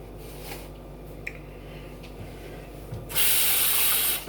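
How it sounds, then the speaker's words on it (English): A measuring cup is rinsed under a running kitchen tap. Quiet handling noises come first, then a loud, steady hiss of close water runs for about a second before it stops. "Rinse it out, put it in my dishwater because I'm done with that measuring cup now"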